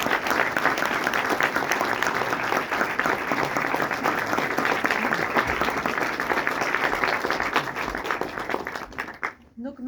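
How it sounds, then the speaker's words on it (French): A Paris cinema audience at a film Q&A applauds steadily, dense sustained clapping from a large crowd that holds for nearly ten seconds before cutting off abruptly. "Est-ce qu'on peut encore applaudir s'il vous plaît Daisy Ridley qui est quand même là?"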